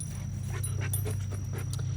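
A dog panting and whimpering close by, soft rapid breaths and a few thin whines over a low steady hum.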